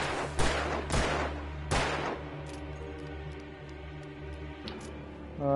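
Video game gunfire: three loud, sharp broadband shots in the first two seconds, then a steady low hum with fainter clinks and a final burst at the end, no talk.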